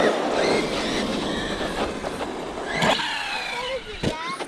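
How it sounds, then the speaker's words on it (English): A very loud truck roars past close by, a dense, rumbling broadband wash with squealing, grinding tones rising and falling, fairly steady for several seconds with brief bursts near the end. "Very loud truck."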